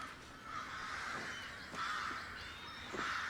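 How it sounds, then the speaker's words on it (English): Crows cawing repeatedly in a scene from the Game of Thrones TV series, harsh calls rising over a steady background wash at moderate distance, with no talk. "Yeah, what's up with the crows?"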